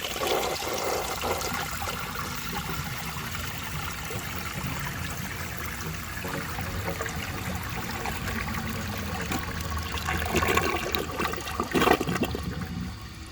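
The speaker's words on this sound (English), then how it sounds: "This toilet is in really good condition and the flush is so strong that there is no reasonable" A 1982 Briggs Conserver toilet flushes a washcloth with a strong, steady rush of water that lasts the whole stretch and swells briefly louder near the end, with no talking.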